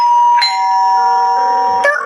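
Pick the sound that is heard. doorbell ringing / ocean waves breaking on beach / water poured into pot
doorbell ringing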